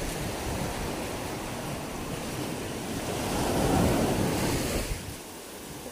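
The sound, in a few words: ocean waves breaking on shore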